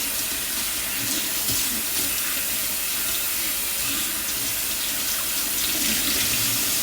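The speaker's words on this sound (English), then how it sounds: "Just to wash out this cloth." Water from a tap runs steadily into a sink to rinse out a cleaning cloth, a continuous close splashing rush with no talk.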